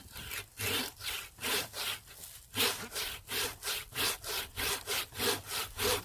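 A hand saw cuts through a peach tree branch during pruning, its strokes rasping back and forth in a steady, close rhythm of about a dozen even pulls and pushes, heard alone without talking.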